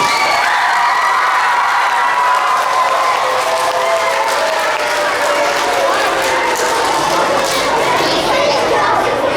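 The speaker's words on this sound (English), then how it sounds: "let's hear it for a big round of applause for these guys" A school assembly audience applauds and cheers the Rebels hockey players, a loud sustained wash of clapping and crowd noise with a few voices calling out over it.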